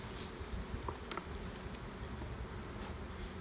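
Honey bees buzz steadily around a small nuc hive outdoors, a dense, continuous hum with no voices.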